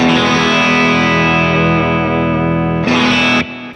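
Guitar through a 1967 Prune Music Bassman amp breaking up, a loud sustained overdriven chord ringing with slight warble, then a brighter struck chord that fades quickly, played alone.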